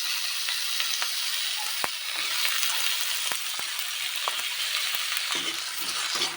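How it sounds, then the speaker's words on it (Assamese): Chopped tomatoes fry in hot oil over sautéed onions in a pan, a steady soft sizzle broken by frequent sharp scrapes and taps of a spoon stirring against the metal, close and without talk. "বিলাহীকেইটা গলি যোৱালৈকে মই ভাজি থাকিম"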